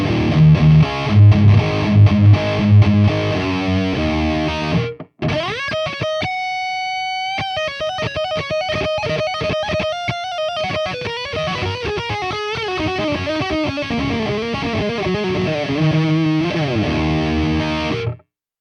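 Distorted electric guitar riffs run through a Valeton GP-200 multi-effects unit's noise gate, with chugging palm-muted chords, a brief cut to silence near five seconds, then sustained bent lead notes and more chords that stop cleanly at the end.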